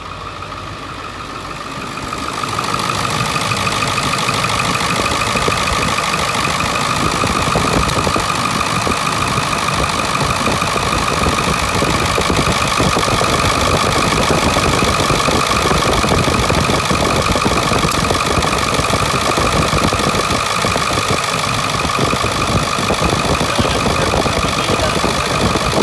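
A Ford Excursion engine catches after startup and then idles loud and steady close by, with a constant mechanical hum and clatter and no voices.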